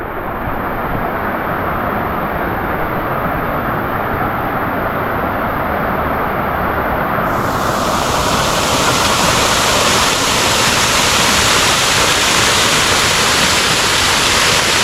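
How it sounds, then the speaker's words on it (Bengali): Water pours down the lowest tier of Katki Waterfalls in Araku Valley, a dense, loud and continuous roar heard up close, with the rush growing brighter and fuller about halfway through. "এখান দিয়ে জল পড়ছে, দেখাচ্ছি আপনাদের।"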